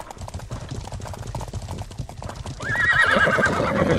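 Horse hooves clip-clopping at a steady pace in the medieval game Life is Feudal, followed by a loud, drawn-out neigh near the end, close and clear.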